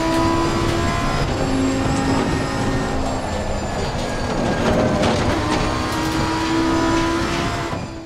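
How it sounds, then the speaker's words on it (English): A GT2 race car in the Assetto Corsa Competizione racing game pulls in fifth gear, its engine a dense, loud tonal drone with shifting pitch and rattling texture, continuous throughout without speech. "When we go up into fifth gear, you can hear the revs drop and hear the power kind of drop in this thing."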